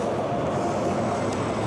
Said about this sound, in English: So one of these trains, subway trains, is out of service tonight too.